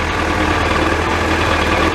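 A Yamaha YZF R1 4XV motorcycle engine idles steadily at about 1100 RPM, a close, loud, even low rumble that runs alone with no talking.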